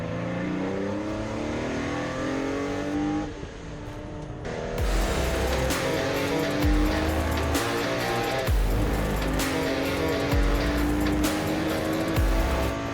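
Porsche 964 race cars accelerate hard past the pit lane exit at Brands Hatch on a wet track, with loud flat-six engines revving up through the gears and several cars sweeping past in quick succession close by.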